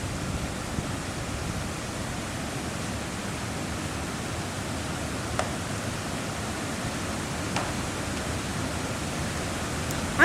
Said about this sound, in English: I was surprised how well the sound of water flowing under the bridge could be heard from this distance.